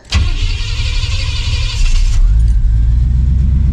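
A Chevrolet Suburban engine cranks briefly and catches, then settles into a steady, loud idle rumble close by, with a faint whine running above it.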